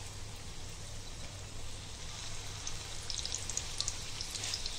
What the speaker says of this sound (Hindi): अभी सीख को फ्राई करेंगे।